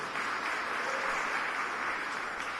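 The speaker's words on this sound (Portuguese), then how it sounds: "Você pode aplaudir o Senhor por esse testemunho?" A church congregation applauds in a steady, even wash of clapping for a few seconds, moderately loud and without any voices on top.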